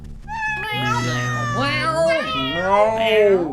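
A cat's meow in the PC game 007 Nightfire, drawn-out and tonal with a rising-falling pitch, sounding over continuous background audio and a brief shout.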